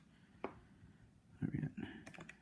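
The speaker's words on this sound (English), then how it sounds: "Type it in our calculator so we don't make errors." Keys being pressed on a calculator while working a math problem, a handful of close clicks and taps in an uneven cluster, with faint speech in the background.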